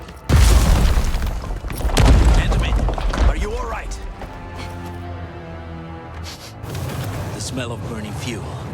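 Explosions in the video game Arknights: Endfield, heavy booming blasts and rumbling debris up close, followed by lingering crackle with a voice speaking over the scene.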